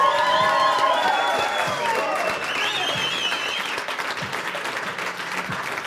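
A studio audience applauds and cheers for a DJ on a music TV show, a loud burst of clapping with whoops that slowly eases off as voices talk over it.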